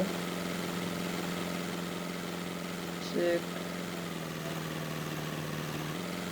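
A tractor engine in Farming Simulator 19 drones in a steady low hum, with a brief tonal blip midway and a slight shift in pitch later, while a voice talks over it.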